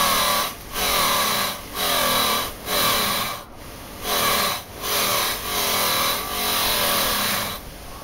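Angle grinder with an abrasive disc grinding metal, the disc shredding as it passes over holes, making a harsh, loud grinding roar in about seven rhythmic passes separated by brief dips.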